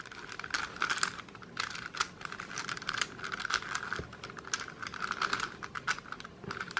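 Plastic pieces of a Jing's Pyraminx puzzle clicking and rattling as a section is twisted, a steady run of quick, close, dry clicks with no talking.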